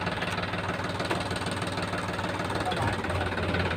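A tractor engine runs steadily nearby, a loud, continuous low chugging rumble with a faint voice underneath.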